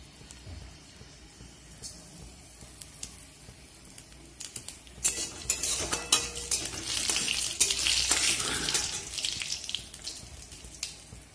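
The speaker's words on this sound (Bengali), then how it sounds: "তেলটা গরম হলেই শুকনো লঙ্কা আর কালো জিরে দিয়ে দেব।" Dried red chillies and black cumin hit hot oil in a pan, a quiet start with scattered clinks giving way to a rising crackling sizzle, near and moderately loud, fading slightly toward the end.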